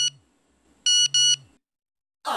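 Phone message notification in a Hindi comedy TV serial: a short electronic beep, then a double beep a moment later, each with a low swooping tone beneath, followed by a burst of sound at the end.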